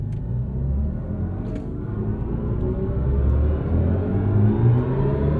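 A red electric BMW i5 M60 accelerates away on the track at the BMW Performance Center, a steady rumbling drive with a rising motor whine that climbs in pitch over several seconds.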